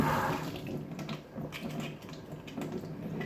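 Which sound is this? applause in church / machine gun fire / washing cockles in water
washing cockles in water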